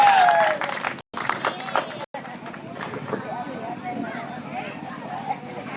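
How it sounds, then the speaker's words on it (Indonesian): An audience at a religious competition claps after a participant's recitation, starting loud then thinning into scattered applause and murmuring crowd noise, with voices talking underneath. "Beri tepuk tangan yang meriah."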